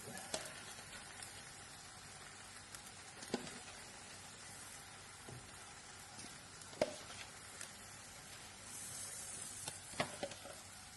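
Garlic-parsley olive oil poured over snails cooking in a tin sizzles in a faint, steady fry with scattered sharp crackles and pops, no voices.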